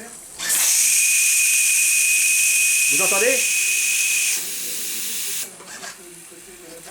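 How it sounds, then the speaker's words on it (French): The steam whistle of a live steam launch hisses steadily at a high pitch for about four seconds, then drops to a weaker, breathier blow before cutting off, with a short spoken phrase heard near the middle. "Le sifflet aimerait un peu plus de puissance vapeur, hélas."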